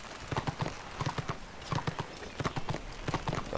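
A horse mount in the online game Warhammer Online: Age of Reckoning clip-clops steadily, its hoof falls coming in a quick, even rhythm at moderate volume with no talking over them.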